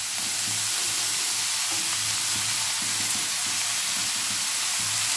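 Mixed vegetables with cabbage and capsicum stir-fry in a hot pan for cauliflower Manchurian with veg chowmein, giving a steady loud sizzle with rhythmic stirring scrapes and no talk.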